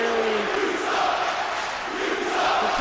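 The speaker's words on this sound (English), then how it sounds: "The crowd is not happy." Wrestling crowd at a DWF Mania show jeering after a title change, a dense, sustained roar of many voices filling the arena.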